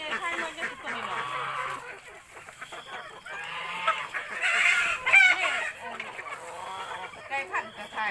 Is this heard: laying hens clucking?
yes